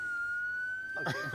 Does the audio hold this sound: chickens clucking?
no